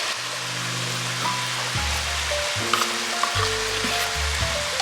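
A pot of ketchup, cream of mushroom soup and sauce being stirred over heat, giving a steady close sizzling hiss with soft scraping and a few low tonal hums, with no talking.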